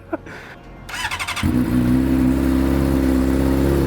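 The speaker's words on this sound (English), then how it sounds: "I like the sound of this exhaust a lot" A few quick clicks, then a motorcycle engine blips and catches into a loud, steady throaty idle with a raspy exhaust tone, close up.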